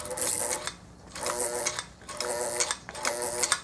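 Old Singer electric sewing machine with a stiff, rough-turning mechanism, its motor driven by the foot pedal in several short bursts of close, rattling mechanical whirring separated by brief gaps.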